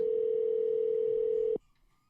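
A telephone dial tone during an outgoing call, a single steady hum that holds evenly for about one and a half seconds, then cuts off abruptly into near silence.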